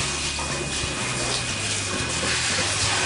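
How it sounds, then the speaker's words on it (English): Steady hiss of hot water spraying onto a winemaking filter machine, continuous and fairly close, with a low hum underneath. "I just basically spray off the filter machine itself"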